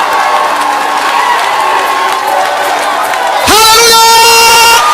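Partway through, a congregation at a French-speaking church deliverance service suddenly erupts into loud cheering and applause, a dense sustained wall of shouts and clapping after a quieter stretch where a preacher's voice carries.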